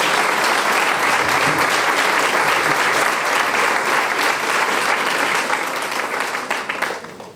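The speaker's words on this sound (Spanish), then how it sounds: "Démosle un aplauso al Señor." A church congregation breaks into sustained, dense applause that fills the room at steady loudness, then gradually thins and fades toward the end.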